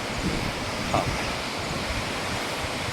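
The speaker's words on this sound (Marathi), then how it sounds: "हे पाणी असं जाते खाली बघा किती खाली खोल गेलं" Lakshmi waterfall at Madhe Ghat pours down into a deep gorge, a steady, dense rushing roar that holds evenly throughout with no voices.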